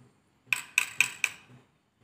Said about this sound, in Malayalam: ഇനി നമുക്ക് നന്നായി മിക്സ് ചെയ്ത് കൊടുക്കാം.